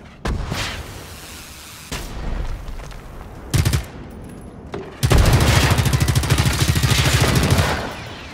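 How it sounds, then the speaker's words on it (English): Weapon fire from a grenade launcher in the Generation Zero video game: several sharp, loud blasts in the first half, then a sustained rapid barrage of repeated shots lasting about three seconds, with no talk. "used a grenade launcher on that thing, on my rocket launcher"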